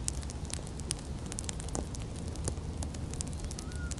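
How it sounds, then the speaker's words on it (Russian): A campfire with mackerel wrapped in foil on it burns outdoors, giving a steady low roar with scattered sharp crackles and pops throughout and no talking. "закладываю скумбрию прямо на костер"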